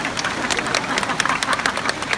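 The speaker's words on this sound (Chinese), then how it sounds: "鼓掌。" An audience claps at a Buddhist talk in Singapore: a short burst of dense, close applause from many hands, with a faint murmur of voices underneath.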